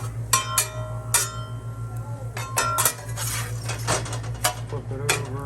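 A spatula scrapes a tortilla off a pan in short, sharp metallic scrapes and clinks with ringing tones over a steady low hum, close and fairly loud.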